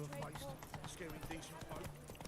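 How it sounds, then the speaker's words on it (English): Roach, Geralt's horse in The Witcher III: Hearts of Stone, gallops with steady, fast clip-clop hoofbeats under continuous talking. "I cannot speed my horse through here."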